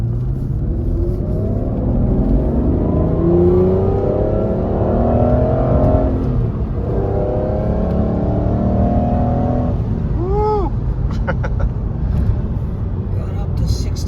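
A manual Aston Martin DB9 with a six-speed gearbox accelerates hard from inside the cabin, its engine note climbing through a gear, easing briefly, then pulling again before a short whine and clicks near the end.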